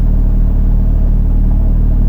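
A Porsche engine that revs to 9,000 rpm sits waiting at traffic lights, holding a loud, steady low rumble close by for the whole moment, with no sharp rise in pitch.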